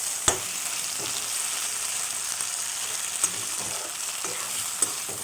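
Mashed, seasoned potato pieces fry in oil in a wok, producing an even, continuous sizzling hiss with a few sharp utensil taps, close and moderately loud with no talk.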